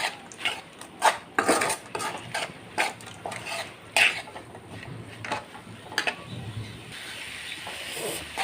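Prawns being stirred together with masala in a metal pan for a Kerala-style prawn roast, with repeated scraping and clinking of a spoon against the pan and a soft hiss underneath, close and steady, no talking.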